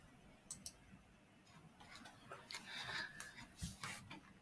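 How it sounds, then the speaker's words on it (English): A computer mouse clicks on an image: a few faint, quiet ticks spaced apart over a low room hush, with no clear voice. "let me just click on a random image"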